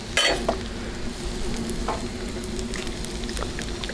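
Burgers sizzle and fry on an oiled grill, a steady close crackle with a few sharper pops and scraping touches near the start, without any talk.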